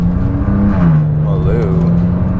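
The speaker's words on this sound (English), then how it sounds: "driving the M4" A BMW M4 converted into a pickup truck, turbocharged with a custom tune, driving with a loud, steady engine drone that rises and dips slightly in pitch, heard from inside the cabin with a voice over it.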